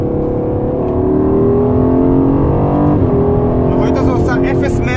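An Aston Martin Vantage sports car with rear-wheel drive in Sport Plus mode gives a loud, sustained engine growl that rises and holds throughout, with a voice talking over it.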